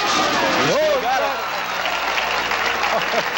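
Crowd noise at the 1978 PBA National Championship bowling event, a broad steady roar throughout with a commentator's voice talking over it.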